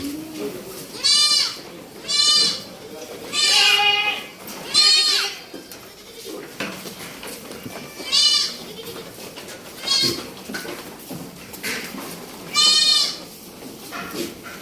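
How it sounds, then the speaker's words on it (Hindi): Goats on a farm during cold weather, with a row of them feeding: loud, wavering bleats come in repeated bursts from close by, separated by quieter stretches with some talk in the background. "देखिए एक लाइन से सारी की सारी बकरियां वही खा रही है।"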